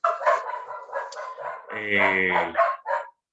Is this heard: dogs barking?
yes